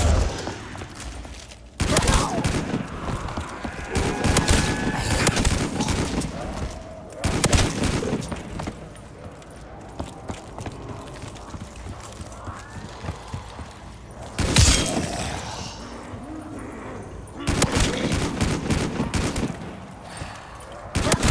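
MB5A gunfire in Call of Duty Black Ops 3 custom zombies: loud rapid bursts of automatic shots come in several separate volleys, with quieter game noise between them.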